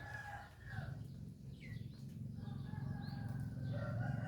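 A backyard flock of fast-growing chickens, about fifty or sixty birds, clucks steadily while a rooster crows; the calls sit over a constant low rumble of background noise.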